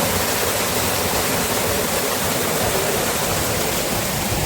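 Wei Sawdong Falls in Sohra, Meghalaya, a loud, steady roar of falling water heard from close by, an unbroken rushing wash with no other sounds.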